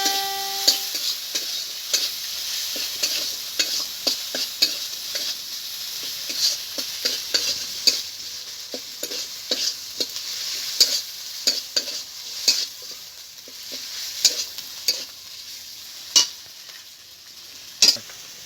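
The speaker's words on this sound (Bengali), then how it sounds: "দিয়ে দেবো টমেটো কুচি। তুমি একসঙ্গে ভালো করে কষিয়ে নেবো।" Chopped tomato and spices being sautéed in a pan for a vegetarian Bengali dish of eggplant, Chandramukhi potato and pumpkin bori: steady sizzling with repeated scraping and stirring clicks of a spoon against the pan, close and moderately loud, with no talking.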